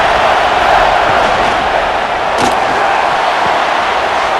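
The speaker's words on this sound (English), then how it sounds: "And here comes the noise. This crowd is trying to inspire this defense to make a big red zone stop." Steady roar of a packed stadium crowd in the college football game NCAA College Football 26, a loud continuous wash of noise urging the defense during a red zone stand, with one sharp thump partway through.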